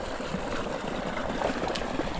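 A strong flow of water rushes steadily through an irrigation canal on farmland, a continuous close, dense roar of churning water with no voices.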